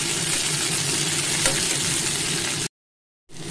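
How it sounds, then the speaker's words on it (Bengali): Chopped bitter gourd and a small onion dropped into hot spiced oil give a loud, dense frying hiss that suddenly cuts to silence, then resumes briefly. "ফোড়নের গন্ধটা বেরোতে আমি উচ্ছেটা দিয়ে দিলাম। তার সাথে আমি একটা ছোট পেঁয়াজ দিয়ে দিলাম।"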